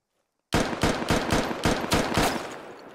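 Machine gun fire in the military shooter Squad, a close, loud burst of about eight evenly spaced heavy shots in quick rhythm after a moment of silence, tailing off at the end.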